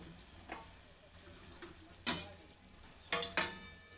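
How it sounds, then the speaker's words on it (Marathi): Jaggery-filled sanjori pastries deep-frying in oil in a kadhai: a low, steady sizzle broken by a few sharp clinks and scrapes, with louder bursts near the end. "आता या पद्धतीने मी सर्व तळून घेते।"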